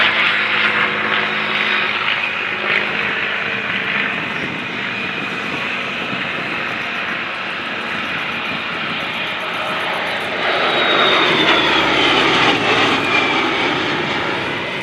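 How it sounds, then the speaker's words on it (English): A P-51D Mustang warbird flies past at the 2025 Abbotsford International Airshow, its loud propeller engine droning steadily and then swelling with a shifting pitch as it passes. "There goes Drew Watson in the P-51D Mustang."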